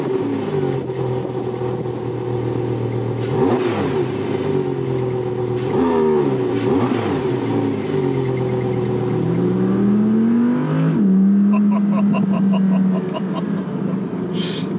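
A £150,000 luxury press car driven on the road, its engine revving and rising in pitch through several pulls and gear changes, heard steadily from inside the cabin with no talk.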